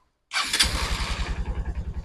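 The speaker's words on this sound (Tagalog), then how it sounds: "May start naman siya, pero pag nag-open ng throttle, namamatay." A Honda TMX Supremo motorcycle with a throttle fault cranks and fires after a short silence, then settles into a rough, pulsing idle with a distinct chugging rhythm, close and alone.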